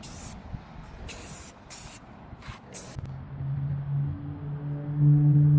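Aerosol spray paint can hissing out thin coats onto model parts, in a few short bursts followed by a longer steady spray, close and moderately loud with a low hum underneath.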